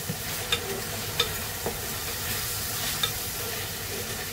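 Tomatoes with a little salt cook in a pan while being stirred, giving a steady soft sizzle with occasional scraping clicks of the spoon against the pan, close and continuous.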